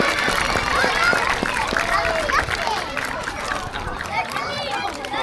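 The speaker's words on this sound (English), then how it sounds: "we're going to give her a massive round of applause" A zoo crowd at a sea lion show at Blackpool Zoo claps in a sustained, dense burst of applause mixed with cheering and chatter, loud and close throughout.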